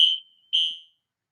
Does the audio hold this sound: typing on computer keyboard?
no